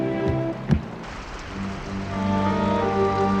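Acid rain falling on a coral island in a cartoon, a continuous hiss of rain under sustained tonal music, with a sharp hit early on and the music swelling toward the end.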